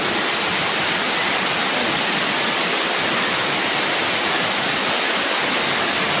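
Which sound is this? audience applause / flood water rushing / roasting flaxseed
flood water rushing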